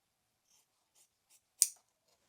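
Scissors trim excess sewing bias tape with a few faint, soft snips and one sharper, louder cut near the end, close up in an otherwise quiet room.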